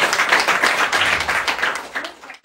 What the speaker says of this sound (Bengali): ডাইরেক্ট সেলিং এর জন্য একটা হাততালি তো হতেই পারে।